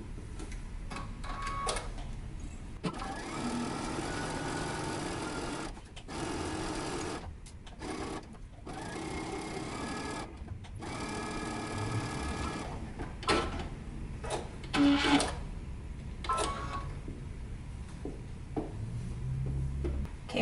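A sewing machine runs in bursts along a pants seam, its rapid mechanical needle chatter starting and stopping between short pauses and handling noises, moderately close with no speech.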